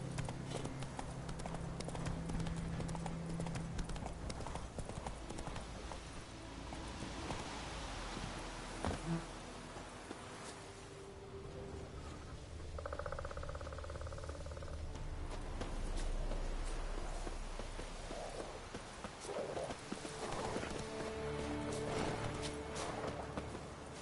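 Horse hooves gallop across ground in Witcher 3, a steady rhythmic clip-clop running quietly under ambient game sounds and insect buzzing.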